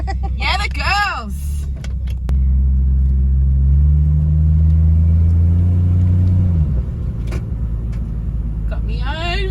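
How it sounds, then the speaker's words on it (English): A Holden VL Executive car on the move, its engine giving a steady low rumble that swells loud through the middle before easing off, with people chatting and laughing at the start and end. "First time driving the new VL."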